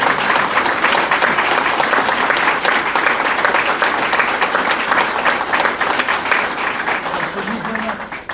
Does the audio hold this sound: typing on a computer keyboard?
no